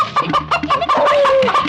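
Chickens cluck in a rapid, close series of short calls, with one longer drawn-out note near the end, in a scene from a Malayalam comedy film.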